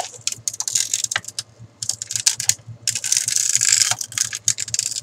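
A hand-cranked cutting machine runs a plastic bottle through to make butterfly magnets, giving rapid crisp clicking and rattling with short gaps. It is close and fairly loud, with no talking.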